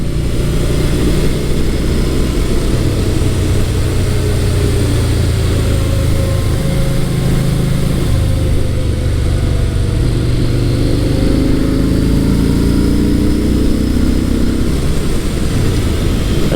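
A 2017 Yamaha SCR950 motorcycle engine drones loudly and steadily while being ridden hard through twisty roads, its pitch rising and falling with throttle and shifts, with constant wind rush and no talking.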